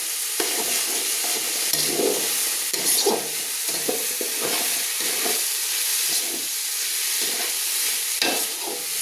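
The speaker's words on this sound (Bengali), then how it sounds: "তো দেখুন আমি এইভাবে ভেজে নিচ্ছি মুগ ডালকে" Mung dal toasts in a hot pan for vegetable khichuri, giving a close, steady dry sizzle broken by repeated scraping strokes of a spoon stirring the lentils every second or so.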